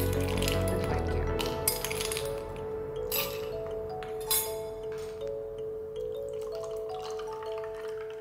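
Ice cubes clink and knock against a glass of raw mango juice, several sharp taps spaced irregularly over a steady background hum, fairly close and clear.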